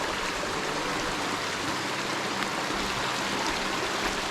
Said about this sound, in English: Beautiful fresh water running down.